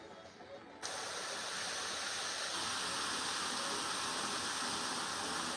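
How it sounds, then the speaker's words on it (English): An airbrush spraying dark green paint onto a Warhammer miniature: a steady airy hiss that starts abruptly after a brief quiet moment and then runs on evenly, close and soft. "here I'm being a bit barbaric with the spraying"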